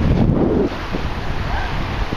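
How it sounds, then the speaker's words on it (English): Ocean waves wash against a cave shoreline as the tide comes in, with gusty wind buffeting the microphone, a loud rumbling roar that eases slightly after the first moment and continues steadily. "Waves are getting bigger."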